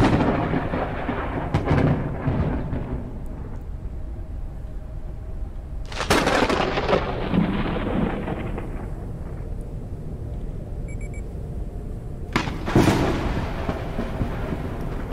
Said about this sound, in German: Okay, das war ein heftiger Blitz.